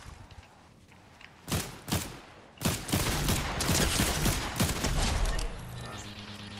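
Gunfire in a Fortnite duos match: several sharp, loud shots crack in quick succession, followed by a dense burst of rapid firing and impacts, with quieter movement sounds between and after them.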